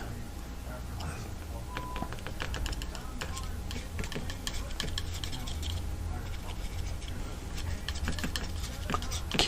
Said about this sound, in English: And this type of palette knife works great with it.